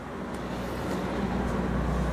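Honda CR-V engine running after a starter replacement, a steady close low rumble that builds slightly louder over two seconds, with no voices.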